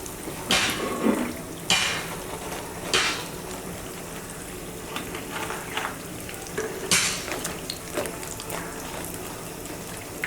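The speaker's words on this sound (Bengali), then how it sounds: "আমার পিঠাগুলো ভাজা হয়ে গেছে।" Jhal puli pitha frying in hot oil, a low continuous sizzle punctuated by sharp bursts of spattering and clinks of a utensil against the pan.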